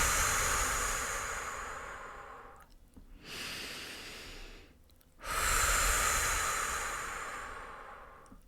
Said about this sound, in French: je continue à bien respirer aussi